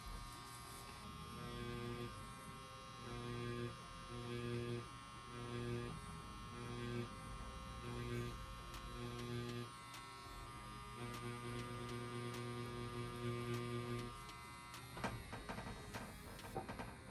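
A budget tattoo pen machine, about $55, runs steadily with a close, continuous electric buzz and hum, its pulsing motor drone holding constant throughout with no talking.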